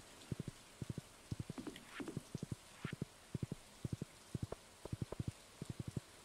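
Hoofbeats of a galloping horse in the modded farming game Stardew Valley, ridden through rain: crisp, quick groups of three thuds repeating steadily over a soft rain hiss, with a few brief game chimes.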